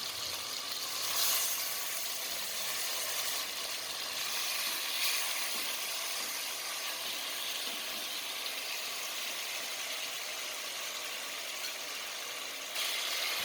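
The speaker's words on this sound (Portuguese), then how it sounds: "Numa panela, acrescento um pouco de óleo e quando estiver bem quente, reduza o fogo e vai acrescentando cada pedaço da sobrecoxa de frango." Chicken thigh pieces fry in hot oil in a pan, giving a steady, dense sizzle that holds for the whole stretch with only small swells, close and fairly loud, with no voices.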